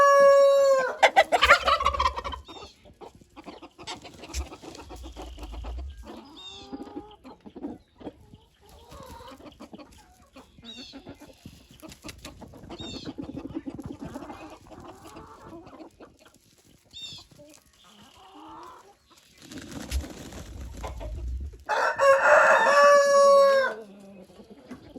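Homestead chickens cluck and murmur quietly, broken by a few loud rooster crows and squawks that stand out near the start and near the end.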